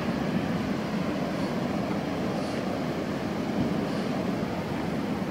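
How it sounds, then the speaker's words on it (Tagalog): Sea waves at a beach wash in as a steady, dense roar of surf, loud and continuous without clear breaks, with no voices over it. "Hindi na ganun kalakasan yung alon, kahapon sobrang lakas."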